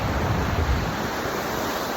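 Ocean waves washing onto a beach in Vietnam make a steady, close surf rush with a soft low rumble and no voices.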